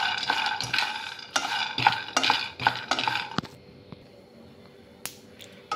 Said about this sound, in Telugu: 1 కప్పు పల్లీలు సిమ్లో పెట్టి వేయించుకోవాలి.